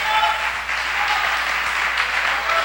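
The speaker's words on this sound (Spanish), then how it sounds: "Un aplauso fuerte al Señor" A church congregation gives strong, sustained applause to the Lord, a dense continuous roar of clapping filling the room.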